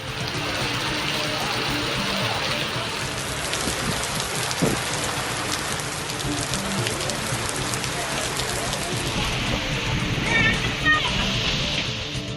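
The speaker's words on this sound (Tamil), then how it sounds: "பலத்த மழை பெய்தது." Heavy rain pours down steadily over open ground in a Tamil Nadu town during a summer storm, a dense continuous hiss with close patters and splashes throughout, loud and unbroken.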